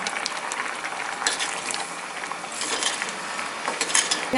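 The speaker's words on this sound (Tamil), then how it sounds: "ஆட் பண்ணோடனே கொதிக்க ஆரம்பிச்சிருச்சு" A pot of carrot kootu bubbling steadily at a rolling boil, a dense hiss of popping bubbles close by, with no voices.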